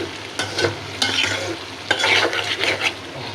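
Poa fish bhuna sizzling in a pan and stirred with a spoon in several close, scraping strokes over a steady background fry.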